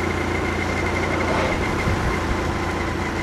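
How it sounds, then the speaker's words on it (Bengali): A motorbike engine runs steadily while riding slowly at about 40 km/h, a loud continuous low drone with no break or change in pitch. "আস্তে আস্তে বাইকটা চালাচ্ছি"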